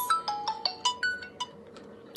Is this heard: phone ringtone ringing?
yes